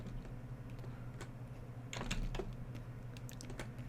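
Light typing on a computer keyboard, soft scattered key clicks with a short quicker cluster midway, faint against a low steady hum, no speech.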